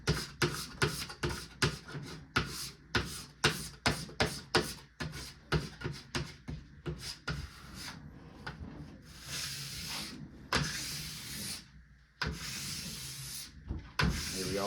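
Ski wax being scraped off a ski base with a scraper in long, rhythmic rasping strokes, close and steady, each pass a distinct scrape, later becoming broader, continuous hissing scrapes.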